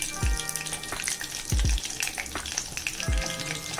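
Chicken lollipops fry in hot oil with a steady crackling sizzle, broken by three loud low thumps as pieces are moved or turned, with no talking.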